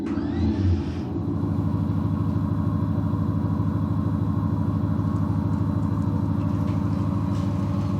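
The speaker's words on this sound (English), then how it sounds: "we're gonna use the summon feature to make the car go forward and pull out the garage" A Tesla Model Y Performance driving itself out of a garage on Summon, a steady low rumble and hum throughout, fairly loud and continuous, with no talking.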